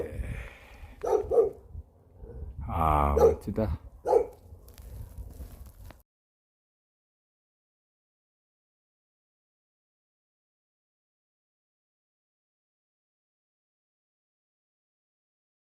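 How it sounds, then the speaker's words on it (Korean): A dog barks nearby in a short burst of a few loud barks, with a person talking briefly around them on an outdoor running path lined with cherry blossoms; the sound then cuts to silence. "개 짖는 소리에"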